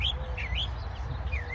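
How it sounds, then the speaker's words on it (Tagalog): Several birds chirp and tweet in quick, high calls over a low rumbling background, close and clear, at a busy highway rest area with a garden off southbound I-5. "Ingay ng ibon"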